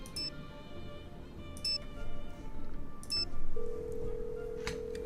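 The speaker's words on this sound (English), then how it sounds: "Let's try calling Nancy in here" Phone dialing in the Nancy Drew: Alibi in Ashes video game, three evenly spaced beeping key tones followed by a steady electronic ring tone, clean and close.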